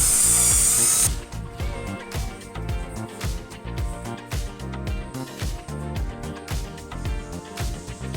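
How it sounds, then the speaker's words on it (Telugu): A power drill cuts a 1-inch hole in the bottom of a 20-liter plastic bucket for a flower tower garden, making a loud, steady grinding whir with rhythmic ratcheting pulses after a brief shrill start. "ఇప్పుడు ఈ 20 లీటర్ల బకెట్కి కింద హోల్ చేయాలి."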